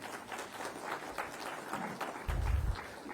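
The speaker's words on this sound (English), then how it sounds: "let's give him a very warm round of applause for that" An audience at a cultural heritage event in India gives a warm round of applause for an author, the clapping fairly faint and steady, swelling louder near the end.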